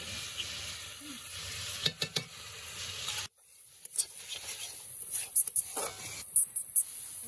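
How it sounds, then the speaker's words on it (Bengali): Chillies dry-frying in a pan while cooking a pabda fish curry, giving a soft steady sizzle with scattered stirring clicks and scrapes, briefly dropping out midway before resuming, close and fairly quiet. "লঙ্কা যাতে একটু ভালো হয় তার জন্য একটু শুকনো ভাজা হবে।"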